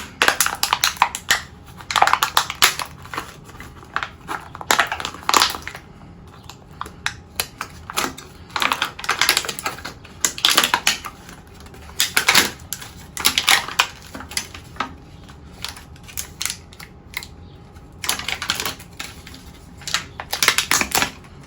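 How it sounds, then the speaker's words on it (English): Plastic covering is peeled off a toilet wax ring by hand, giving irregular bursts of loud crinkling and crackling separated by short quiet gaps. The sound is close and carries no speech. "I'm gonna remove this plastic covering. All you gotta do is pull up on it through this hole with your finger."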